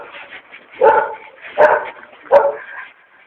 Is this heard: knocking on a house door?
no